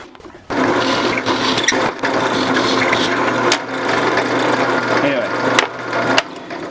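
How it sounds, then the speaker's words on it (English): A steady whirring power drill with a Forstner bit bores holes for a roller storage box, running continuously for several seconds, close up, with brief dips and a short pause near the end. "Probably don't want to watch me drill however many holes"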